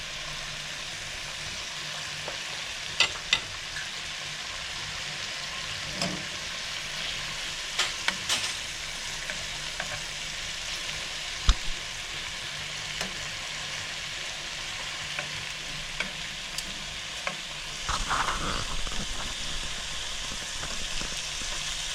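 Punctured longganisa sausages fry in a pan with a continuous close sizzle and scattered sharp pops and spatters, loudest near the end, with no talking.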